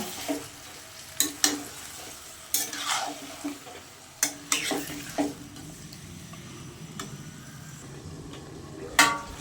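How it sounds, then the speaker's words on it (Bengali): Chicken for biryani is stirred and fried in a pan until its released water cooks off: repeated scraping and clanking strokes of a utensil over a steady, close sizzle. "পানিটা শুকিয়ে যাওয়া পর্যন্ত এটা ভালো করে নেড়ে চেড়ে কষে নেব"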